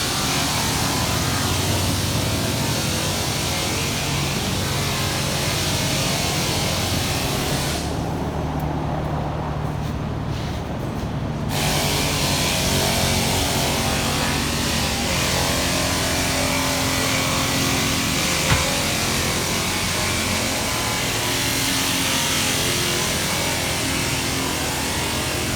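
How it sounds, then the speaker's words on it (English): A 2014 Chrysler 300 drives in over about twenty-five seconds, its steady engine and road noise heard beneath loud background music. "Chrysler 300 coming in to get lowered."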